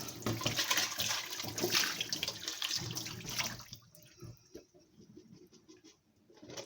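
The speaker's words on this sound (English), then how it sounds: "I'm just pouring my juice into my jug." Homemade plum juice pours into a jug in a steady splashing stream that fills the first half, then drops to a quieter trickle with scattered drips.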